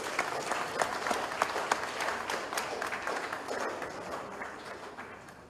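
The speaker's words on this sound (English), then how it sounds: "Ladies and gentlemen, another big round of applause, please." Audience applause at a New Patriotic Party political event, sustained crowd clapping at moderate distance that gradually tapers off toward the end.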